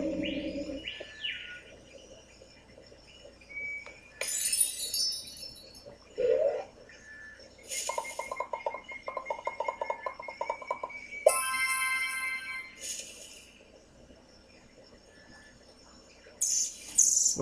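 Short chirps and tweeting bird calls from the creature-evolution game Evopop, in scattered bursts with quiet gaps, some higher and brighter than others, fairly soft, with no talking over them.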